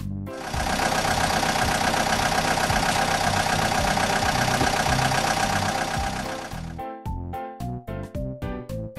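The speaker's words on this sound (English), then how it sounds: "Excavator." An excavator engine runs loud and steady at close range, then breaks into a series of rhythmic, pulsing chugs near the end, with no talk.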